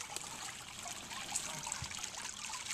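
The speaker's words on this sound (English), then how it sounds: "Your water feature we talked about earlier with the grindstone." A garden water feature built with a grindstone trickles steadily, a continuous bright babble of running water, close and moderately quiet, with no talk.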